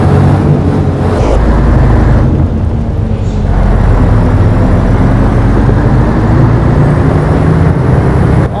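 A low, steady engine drone rumbles throughout, an old bus in a modded Euro Truck Simulator 2 running continuously at close range, with no talking.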